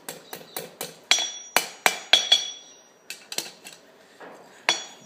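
Hammer blows on hot metal worked over the edge of an anvil while forging a cheese knife, a series of sharp ringing strikes in uneven bursts with short pauses, loud and close.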